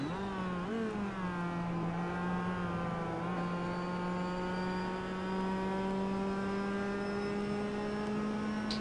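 Mazda MX-5 race cars in a racing video game, a steady droning engine note holding at a constant pitch with a second engine tone layered above, continuous and fairly close throughout.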